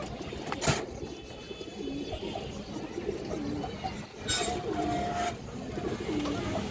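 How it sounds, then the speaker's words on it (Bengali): A female pigeon at a pigeon farm coos softly in short, low phrases, joined by other birds and faint background noise, with a few brief louder rustling bursts. "খুবই সুন্দর একটা মাদি কবুতর"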